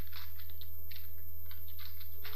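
Code is typed on a computer keyboard in quick, irregular bursts of light clicking keystrokes over a steady low electrical hum.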